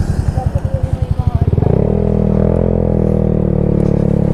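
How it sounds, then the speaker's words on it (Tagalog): A motorcycle on a mountain road near Sagada throbs past, its engine pulsing rhythmically before swelling into a loud, steady roar close by as it draws level. "ayun yung motor"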